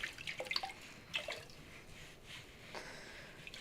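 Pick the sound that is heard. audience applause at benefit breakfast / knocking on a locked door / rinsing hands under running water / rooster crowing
rinsing hands under running water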